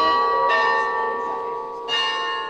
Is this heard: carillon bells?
yes